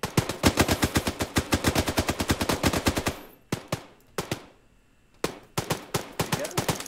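Automatic gunfire in a tactical shooter video game, a loud rapid burst of shots followed after a short pause by several separate single shots and short bursts, close and sharp with no voices over it.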